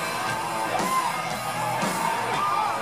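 A fan sings and screams along to a song while the drums are played; a thin, mid-pitched yell rises and falls several times over loud, dense band noise.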